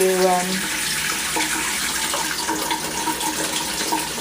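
Tap water runs steadily to rinse a freshly made garden flag print, a continuous close splashing hiss with a brief tonal voice-like sound at the very start.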